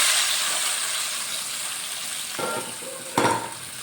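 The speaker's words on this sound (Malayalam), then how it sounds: "നമുക്കത് താളിക്കാം." Spices tempering in hot oil for a Thrissur-style fish curry, a steady bright sizzle with a couple of sharper crackling bursts near the end, close and alone without voices.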